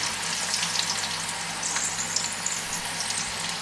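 Steady, close sizzling and crackling of ground onion frying in hot oil for masala achari chicken, with occasional stirring sounds and no talking.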